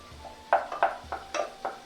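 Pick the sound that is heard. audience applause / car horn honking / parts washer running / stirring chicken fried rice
stirring chicken fried rice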